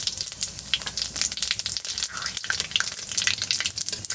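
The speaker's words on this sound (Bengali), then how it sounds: "তেল গরম হয়ে গেছে এবার এর মধ্যে দেবো দুটো তিনটে তেজপাতা একটুখানি জিরে" Bay leaves and cumin seeds sizzle and crackle in hot oil in a pan, a loud, dense, continuous frying hiss with sharp pops, heard close up and alone.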